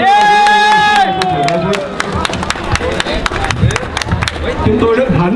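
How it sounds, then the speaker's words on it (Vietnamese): A crowd at a street demonstration in Ho Chi Minh City applauds and cheers, with a loud burst of clapping and shouts that carries on under an announcer's voice over a loudspeaker. "Thì chúng tôi xin mời chúng ta dành một tràng pháo tay để chào đón thị trưởng"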